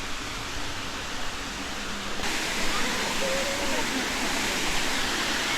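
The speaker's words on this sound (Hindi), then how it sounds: "तो भाई वाटरफॉल के सामने जाने पर इतनी आवाज़ आती है जो कि सुन सकते हो, काफ़ी शोर आवाज़ है पानी का।" The waterfall at Rock Garden in Chandigarh gives a constant broadband roar of falling water, close and loud, which grows fuller partway through.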